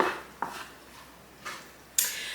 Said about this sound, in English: So you mix the Rotel in.